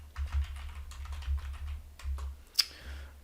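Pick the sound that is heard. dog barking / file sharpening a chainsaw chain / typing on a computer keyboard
typing on a computer keyboard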